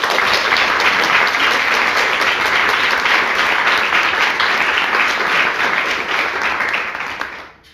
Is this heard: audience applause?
yes